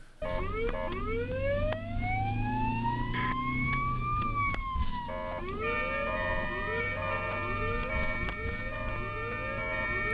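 An ambulance siren wails loudly and continuously up close, its pitch sweeping up and down in repeated cycles over steady road traffic noise.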